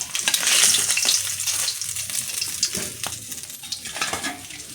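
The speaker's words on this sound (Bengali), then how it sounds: "মাছগুলো কি সুন্দর লাল লাল করে আমি ভাজা করে নিচ্ছি" Nurula fish pieces frying red in oil in a pan, a loud close sizzle that swells early then eases, dotted with spatters, clinks and scraping of a spatula against the pan.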